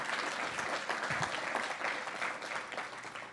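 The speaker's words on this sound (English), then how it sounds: "Let's give them a round of applause, please." Sustained audience applause for military veterans at an Eagle Council gathering, a dense steady patter of many hands clapping, moderately distant and fairly even throughout, with no talk over it.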